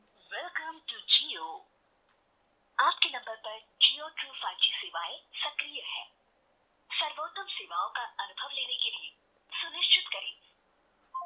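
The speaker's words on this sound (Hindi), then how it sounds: "बाकी स्पीकर की आवाज़ मैं आप लोगों को सुना देता हूँ" Call audio playing through the small built-in speaker of an HK9 Ultra 2 smartwatch, a thin, telephone-like voice in short bursts separated by silent pauses.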